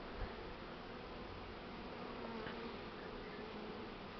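A honeybee swarm being hived, with a steady, dense buzzing from many bees that fills the whole clip at an even loudness, close by and with no talking.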